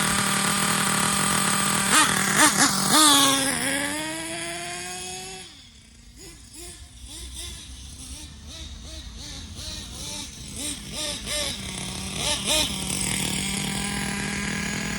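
HPI Savage 25 nitro RC monster truck engine running close, a loud buzzing whine that revs up, drops to a wavering lower idle, then rises again as the high-speed needle is leaned out.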